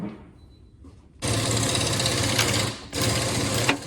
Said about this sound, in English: with our 13mm socket and a ratchet, we're going to go ahead and loosen these 3 bolts right here